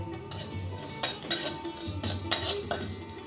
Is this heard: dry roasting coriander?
yes